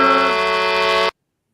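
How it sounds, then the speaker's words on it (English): A loud, steady electronic horn honk sounds in one sustained blast of about a second, then cuts off abruptly into silence. "Honk if you hear me, baby."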